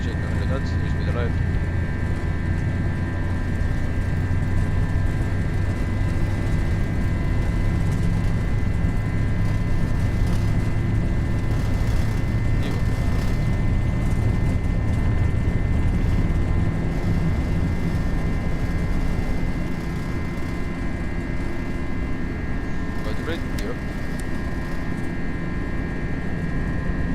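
An FSLabs A321 in the Prepar3D flight simulator rolls down the runway for takeoff, a steady loud jet roar with a constant high whine held throughout, under intermittent voices.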